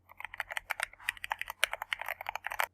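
Rapid typing on a computer keyboard while an email address is entered, a close, dense run of crisp key clicks with no talking.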